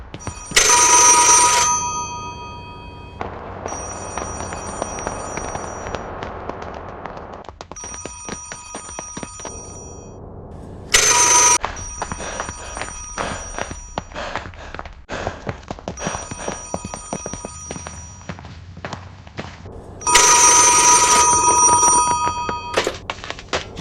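An old telephone bell rings in repeated loud bursts separated by pauses, with shuffling movement and faint background noise in between; no talking over it.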